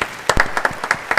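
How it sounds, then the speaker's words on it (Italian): Audience on an Italian local TV show clapping in scattered, uneven bursts, a short burst of applause heard alone at moderate level. "un bel applauso"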